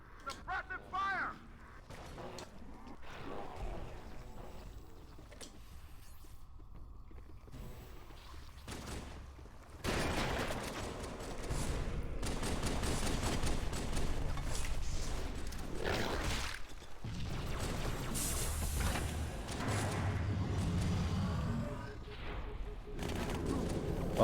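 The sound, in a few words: gunfire from the video game Halo 2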